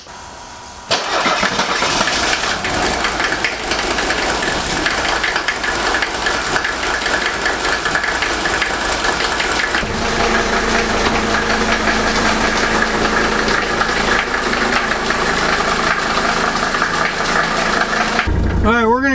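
A 1983 Mercedes 300TD with an OM617 diesel engine and freshly rebuilt injectors cranks and catches about a second in, then settles into a loud, continuous clattering diesel idle that stays close and steady to the end.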